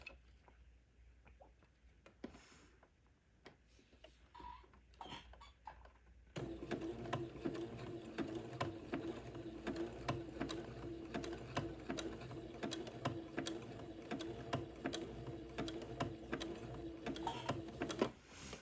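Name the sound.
sewing machine stitching edging lace on a Christmas bishop dress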